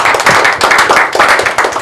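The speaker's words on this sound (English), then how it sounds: "Please clap for him." Audience clapping at an informal gathering, a steady patter of hand claps in uneven bursts, fairly close and loud, with no voices over it.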